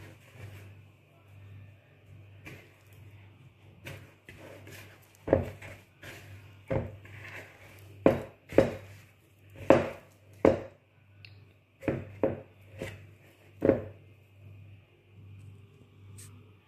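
Milk bread dough is mixed and kneaded by hand into a ball, giving close, irregular soft thuds and slaps over a faint low hum.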